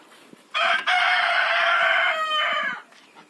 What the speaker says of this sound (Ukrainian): Курей уже відкрили, вони вже ходять тут, пасуться, прибирають нам тут трохи.